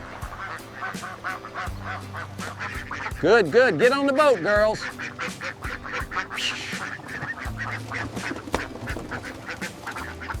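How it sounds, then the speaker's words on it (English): Egg-laying ducks quack loudly in a burst amid a noisy flock kept on a river boat, while a person talks over the clamor. "This boat is specially designed for raising, laying ducks."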